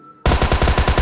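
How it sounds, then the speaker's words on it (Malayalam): Automatic gunfire in BGMI: a sudden rapid burst of evenly spaced shots that starts after a brief quiet moment, loud and close. "വെടിയൊച്ച കേൾക്കാന്നുണ്ട്."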